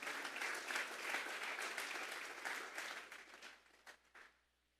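Church congregation at a Sunday service clapping together as an offering to God, a dense sustained round of applause that thins into scattered claps and fades out near the end.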